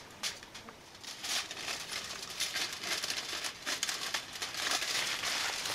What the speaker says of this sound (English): Let's take the scissors real quick and cut it up.